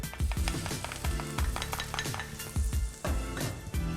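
Minced garlic and beef frying in about three tablespoons of smoking-hot vegetable oil, a steady loud sizzle with repeated scraping and clinking of a spatula stirring against the pan.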